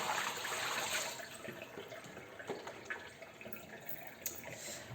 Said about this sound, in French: on peut vider l'eau, du coup, simplement